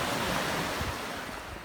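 Sea waves at Oslob wash in a continuous, broad rushing roar close to the microphone, with wind buffeting mixed in and no voices over the surf.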